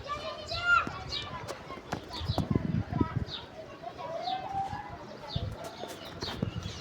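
Pigeons coo softly while being fed water and grain on a rainy morning, mixed with sharper bird chirps and scattered low thumps and rustles nearby, with a voice faintly present in the background.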